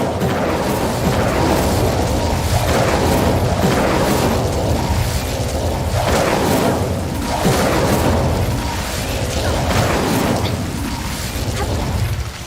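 Incendio fire spell cast in a video game, a series of loud booming bursts spaced a couple of seconds apart over a constant roaring wash, with no talk.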